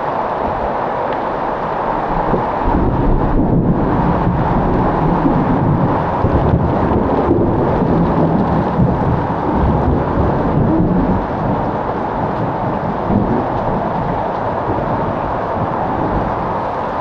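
Heavy rain pours steadily across a flooded farm during a thunderstorm, with a constant loud roar of downpour and wind buffeting the microphone, and low rumbling thunder swelling through the middle of the stretch.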